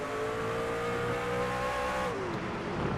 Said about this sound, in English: You can progressively hear how long it takes for this truck to get up to speed.